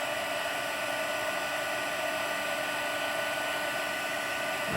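A heat embossing tool blows hot air over white embossing powder at close range, giving a steady, even whoosh of airflow with a faint motor whine throughout, with no talking.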